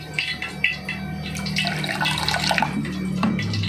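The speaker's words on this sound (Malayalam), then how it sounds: "കുറച്ചും കൂടെ വെള്ളം ഒഴിച്ചു കൊടുക്കുന്നുണ്ട്." Water pours in a steady, splashing stream into a bowl of dosa batter mixed with an egg, close by and fairly loud for a few seconds.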